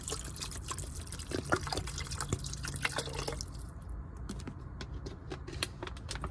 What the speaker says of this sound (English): So I got a bottle of water and I'm gonna add the whole thing up in there.